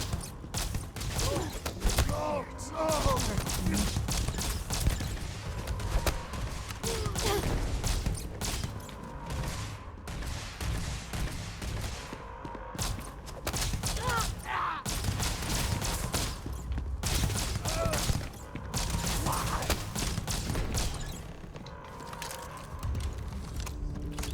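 EM weapon gunfire in the Starfield video game, a dense run of rapid mechanical clattering shots and whirring with game voices and effects mixed in, steady and loud throughout.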